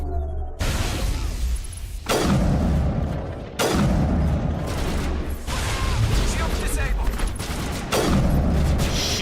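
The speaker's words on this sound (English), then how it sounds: "Jesus, combat is loud." Loud combat in Mass Effect Legendary Edition: heavy booming explosions and bursts of gunfire land every second or two, each impact followed by a rumbling, crackling tail, with dense battle noise filling the gaps.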